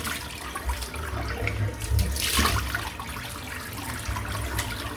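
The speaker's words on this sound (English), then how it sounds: "Splash warm water onto a mentholated face." Warm water from a sink is splashed by hand onto a face during a wet shave routine, a short burst of close splashing and dripping around the middle over a running tap.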